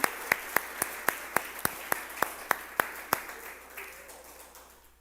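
A church congregation gives a round of applause, heard as about a dozen sharp, evenly spaced claps that ring out in a reverberant hall before fading into a soft wash of room noise.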